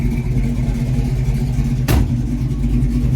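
A 1967 Ford Mustang Fastback's engine runs steadily with a low, throbbing rumble as the car pulls away, with one brief louder burst partway through.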